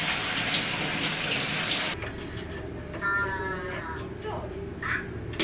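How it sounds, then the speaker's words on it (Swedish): A shower runs loudly in a home bathroom while hair is washed, a broad rushing spray that cuts off abruptly partway, leaving softer dripping and water movement afterward. "Nu måste jag verkligen hoppa in i duschen och tvätta håret."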